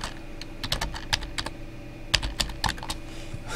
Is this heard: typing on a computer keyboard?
yes